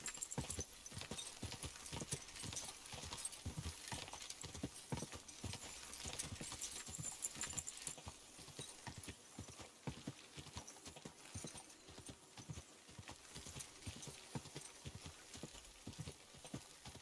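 Horse hooves clip-clop at a steady walking rhythm in Kingdom Come: Deliverance II, continuous and fairly faint, with game ambience behind them.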